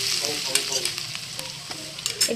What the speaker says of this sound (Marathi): आता तेल आणि बटर मध्ये मी टाकणार आहे जिरे. नंतर टाकणार आहे 2 चमचे बेसन.